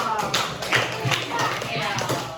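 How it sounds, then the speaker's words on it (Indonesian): A school class claps in a quick, uneven burst of sharp hand slaps, fairly close and lasting the whole short stretch, with a voice talking over it. "Tepuk tangan dulu dong"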